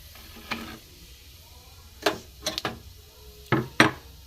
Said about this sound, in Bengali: বন্ধুরা কড়াই গরম হয়ে গেছে এতে আমি জিরে ফোড়ন দেবো